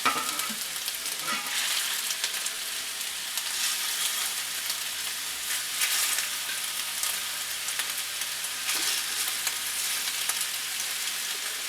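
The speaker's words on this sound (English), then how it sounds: "To fry it in a pan" Swedish meatballs fry in hot oil in a pan, giving a continuous, even crackling sizzle at close range with no talking.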